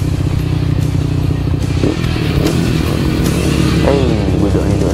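A motorcycle engine runs loud and close with uneven revving surges and pitch shifts, and light clattering and scraping mixed in.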